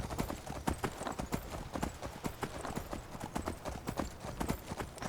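Rapid, continuous clip-clop of horse hooves trotting in the video game Skyrim Special Edition, close and steady, with a dense busy rhythm and no talking.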